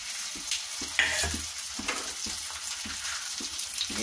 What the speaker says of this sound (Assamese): সেইকেইটা মই অলপ তেলত ভাজি ল'ম